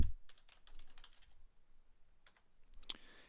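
Typing on a computer keyboard while filling in an online account sign-up form: bursts of quick, light, close key clicks with short pauses between, ending in a sharper tap.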